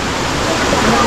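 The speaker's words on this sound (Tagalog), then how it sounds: "So yun, itong dumadaloy na tubig na to, galing yan sa bukal." Spring water flowing steadily at Kilangin Falls, a broad, constant rush of running water filling the scene at close range with no pauses.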